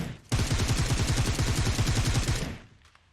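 Rapid automatic gunfire in a battle-royale shooter video game, a dense burst of close, loud shots lasting a couple of seconds before cutting off, with no talk over it.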